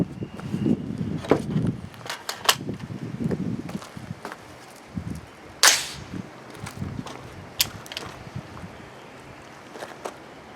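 A 300 BLK rifle firing a 95 grain cast zinc bullet gives one sharp, bright crack partway through, amid scattered smaller clicks and handling noises outdoors.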